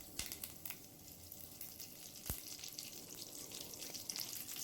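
Curry leaves sizzling in hot oil with fennel seeds while an empty salna is being made, a steady crackling fry with a brief sharp pop partway through and no voices.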